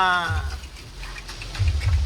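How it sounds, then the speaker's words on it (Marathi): Heavy rain in Karjat hisses steadily throughout; a voice speaks briefly at the start and low murmuring voices rise under the downpour near the end. "तर मित्रांनो पाऊसच पाऊस आहे कर्जतला."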